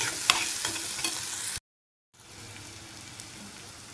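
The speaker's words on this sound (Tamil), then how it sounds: "எல்லாம் போட்டுட்டு ஒரு 5 நிமிஷம் அப்படி கொஞ்சம் குக் பண்ணிடலாம்." Vegetables for upma sizzle and crackle in a hot pan with occasional stirring scrapes, a steady frying hiss that cuts out briefly, then resumes more softly.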